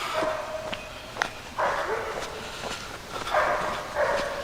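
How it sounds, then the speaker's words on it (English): A dog barks several times at a distance outdoors along a creek hiking trail, short bursts repeating at intervals over a low background hum. "I got a dog barking at us."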